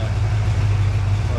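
A 350 V8 engine idles at about 750 rpm during hydraulic flat-tappet camshaft break-in, giving a steady, loud, low mechanical hum with even pulsing, heard close and unbroken.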